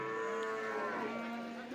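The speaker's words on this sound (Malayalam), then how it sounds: "വലിയ പോത്തുകൾ പശുക്കളൊക്കെ വന്നിട്ടുണ്ട്" Cattle lowing at a busy buffalo and cow market, a sustained, loud, close moo that holds steady for nearly two seconds with no talk over it.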